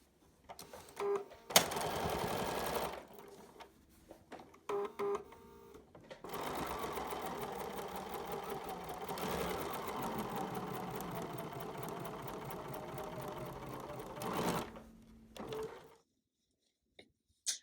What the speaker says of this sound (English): we'll go over to the sewing machine and I'll show you that